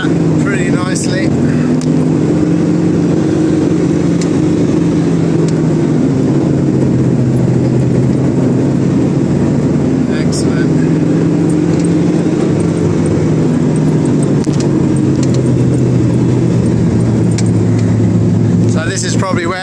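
A 4x4 engine labors loudly and steadily as it climbs off-road in Bolivia, a continuous drone with shifting pitch, metallic rattles and jangles over the top, and occasional speech.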